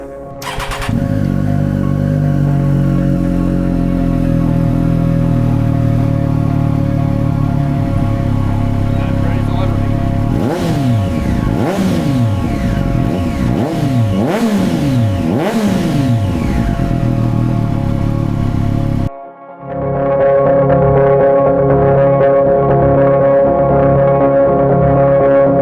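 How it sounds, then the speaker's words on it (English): Triumph Street Triple R motorcycle with a full exhaust and the baffle removed, idling loud and close, then revved hard in repeated blips that rise and fall, before a brief cut and a steady rumbling idle. "that's what it sounds like with both stock exhaust, baffle in, and baffle out"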